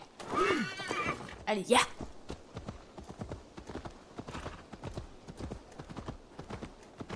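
A pony in Assassin's Creed Valhalla whinnies near the start, then trots with steady rhythmic hoof clip-clops that continue throughout, while someone speaks briefly.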